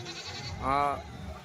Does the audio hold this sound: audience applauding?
no